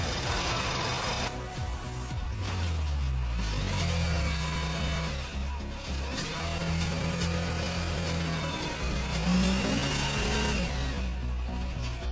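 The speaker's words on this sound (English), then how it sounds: "Let's see how it responds to revving up." A flood-damaged Audi Q5 engine idles nearby, then is revved several times, its pitch climbing and falling back before settling into a steady idle again.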